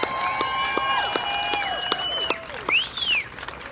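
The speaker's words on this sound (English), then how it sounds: "one more round of applause for them" A crowd at an outdoor rally at the Phoenix, Arizona Capitol applauds its organizers, with scattered sharp claps mixed with long, rising and falling whistles.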